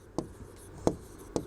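Marker or chalk writing on a board during a biology lesson, three short separate scratchy strokes against a quiet room.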